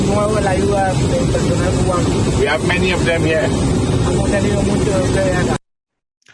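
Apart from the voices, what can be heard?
jet engine noise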